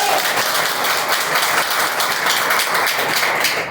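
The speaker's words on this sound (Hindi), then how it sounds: "मैं चाहूंगा मेरे गुरु के लिए बहुत जोरदार ताली बजाएं" A crowd at a talk on STP clogging bursts into loud, dense, continuous applause, many hands clapping close and steady throughout without any speech.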